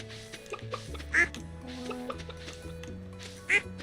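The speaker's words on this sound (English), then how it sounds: "I hear a duck" Two short, bright duck quacks from the farming game Stardew Valley pop out over a steady, plucky background melody, spaced a couple of seconds apart.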